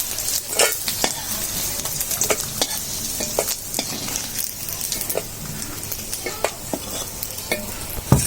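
Dried fish frying in a pan and fried until reddish, giving a constant crackling sizzle punctuated by sharp scraping stirs and clinks of a utensil against the pan, close and steady with no talk.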